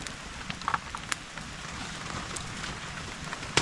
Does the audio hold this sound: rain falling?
yes